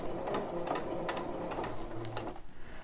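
A domestic sewing machine runs continuously while stitching a lingerie-fabric Maya bra, producing a rapid, even needle chatter at close range with slight pauses and no speech.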